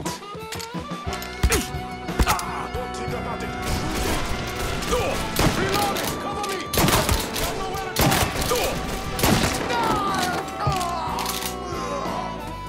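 Gunfire in the video game Mafia III, dense repeated shots and thuds over a busy music-laden game mix, loud and continuous, with voices heard in the scene.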